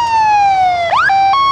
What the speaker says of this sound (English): I think the sirens and horns work on these trucks quite well.